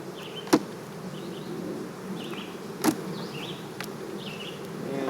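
Honeybees drone steadily around open hive boxes while nucs are transferred, a soft continuous buzz with occasional louder passes of single bees flying close by.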